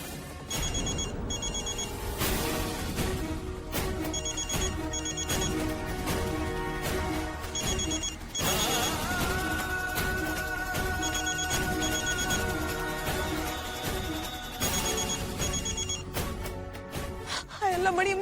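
A telephone rings unanswered in a Hindi-language TV drama, repeated electronic ring bursts recurring in a steady pattern over a dramatic music score for nearly twenty seconds.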